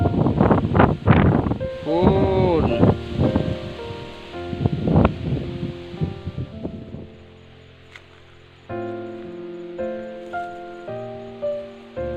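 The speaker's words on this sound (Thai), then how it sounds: "ลมผัดวีวีเนาะ" Wind blowing across a large open field of big flowers in bloom, heard as steady rushing gusts against the microphone, with rustling and whooshing bursts that ease into a quieter, continuous breeze.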